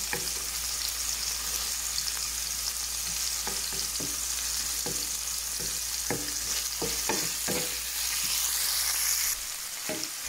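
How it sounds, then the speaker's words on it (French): Salmon fillets fry in a pan over medium heat with a steady, close sizzle, broken by a string of soft scrapes and taps from a utensil. The sizzle drops away briefly near the end. "sur feu moyen, je vais faire cuire mes pavés de saumon."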